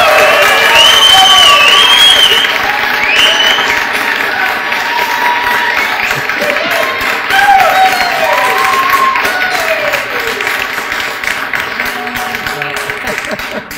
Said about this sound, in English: Could you please show your approvals for this wedding to take place with your applause or whatever it is?